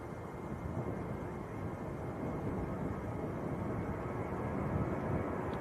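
Ryanair Boeing 737-800 at Manchester Airport rolling for takeoff to Dublin, heard as a steady, even jet engine rumble and hiss that holds at constant strength throughout at moderate distance.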